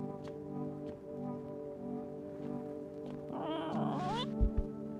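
A cat meows inside a video game, a short rising and falling call near the end set over steady droning game music, with a couple of low thumps right after it.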